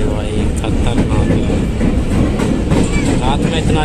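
A train running on rails from Delhi to Dehradun rumbles loudly and continuously, with rhythmic clickety-clack of wheels over track joints heard from inside, close and steady throughout.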